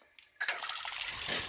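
Water suddenly gushing from an opened valve on a basement boiler, a steady rushing splash that starts abruptly after a quieter trickle and carries on continuously, close to the microphone.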